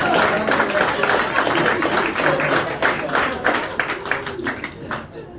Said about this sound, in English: Round of applause for Danielle